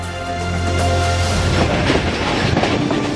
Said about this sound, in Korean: 높이 약 97m, 아찔한 철교 위를 달리는 열차 안에서 오늘의 여행을 시작합니다.